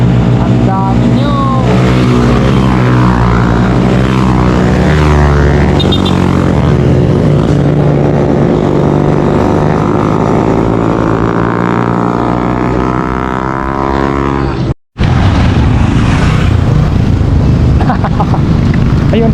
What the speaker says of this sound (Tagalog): Ayan o, daming motor o. Ang tutulin nila.